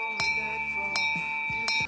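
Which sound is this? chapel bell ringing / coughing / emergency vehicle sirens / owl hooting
chapel bell ringing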